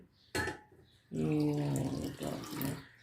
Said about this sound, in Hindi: अब हम जो दूध है वो कप में डालेंगे